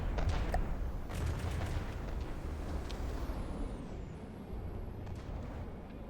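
Naval gunfire from ships focusing their fire in the From the Depths game, a dense rumbling barrage of shots and impacts that fades slightly toward the end, with no voice over it.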